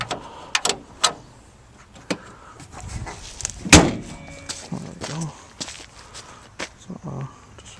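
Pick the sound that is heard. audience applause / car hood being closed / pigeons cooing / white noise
car hood being closed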